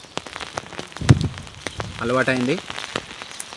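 Rain falls outdoors beside a farm field and pond embankment, a steady close patter with scattered crackling drops. A voice speaks briefly over it.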